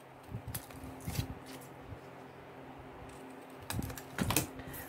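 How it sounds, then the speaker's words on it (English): Scissors snip the corners off bookbinding material, a few short crisp cuts heard close and quiet in two clusters, with a calm pause between them. "Now I shall cut these little corners off."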